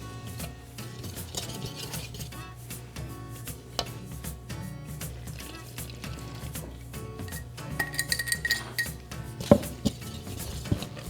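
Wet and dry pajeon batter, the scallion pancake mix, being stirred together in a large mixing bowl, a soft scraping and clinking close by that grows sharper and louder toward the end.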